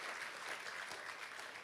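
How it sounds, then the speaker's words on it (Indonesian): A church congregation claps together during a sermon, a dense, even patter of many hands sustained at moderate distance with no break. "Kita kasih tepuk tangan buat kau nama Tuhan."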